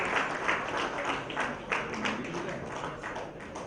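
Sustained audience applause for a winner at a valedictory ceremony, steady and dense throughout, a full room clapping with no talk over it.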